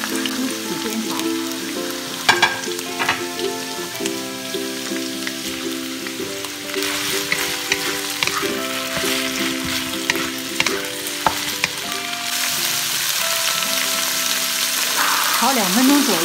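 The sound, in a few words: stir-frying celery and bean curd sticks with ginger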